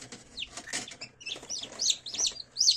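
Newly hatched chicks chirp in a series of high, thin peeps that come in irregular bursts, close and fairly clear, with no talking.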